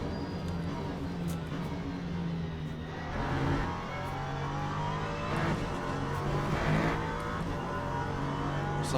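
An LMP3 prototype race car in the Le Mans Ultimate racing game drones steadily, its engine swelling with revs and easing off again. The sound is loud, continuous and close, with no talking over it.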